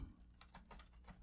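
Rapid keyboard typing clicks, a quick irregular burst of light taps, faint and close, with no talking.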